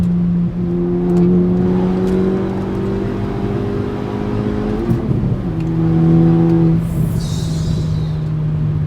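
A Stage 2 Volkswagen Golf R with an APR short shifter accelerates hard at night, engine droning and rising in pitch through the gears, a brief dip at the shift, then pulling strongly again, close and loud.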